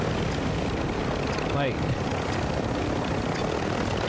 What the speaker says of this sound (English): Why is this chopper doing that?